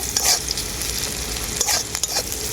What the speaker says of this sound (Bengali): পেঁয়াজ আর গোটা জিরেটাকে আমি খুব ভালো করে ভেজে নেব